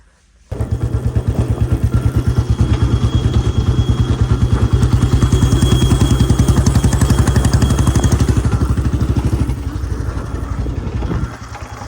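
A Royal Enfield Bullet motorcycle engine fires up and runs at a loud, steady, close thumping beat for about eleven seconds, then eases slightly near the end.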